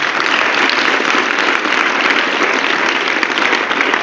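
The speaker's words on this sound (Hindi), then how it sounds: "ताली बजाओ जोरदार" Loud, sustained applause from a group of students at a Vedic school in Dhalegaon, Parbhani: a dense, even wash of many hands clapping with no pauses.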